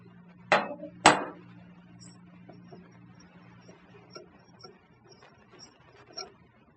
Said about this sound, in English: you can use a crescent wrench or a 3/4 inch opened end wrench. We'll break this loose.